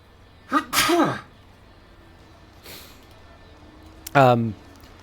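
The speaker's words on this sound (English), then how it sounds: "I don't know why I need to sneeze every time I go to the mic." Two sharp sneezes from a person at a microphone, one early and one near the end, each a loud close burst with a breathy intake, separated by quiet room tone.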